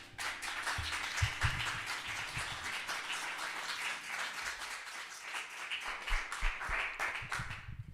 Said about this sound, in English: Shall we give her another applause?